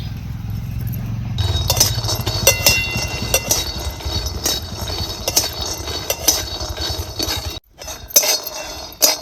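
Peanuts dry roast in a hot kadhai, a busy run of rattling clinks and scraping as the nuts are stirred against the metal, close and fairly loud, with a short pause near the end.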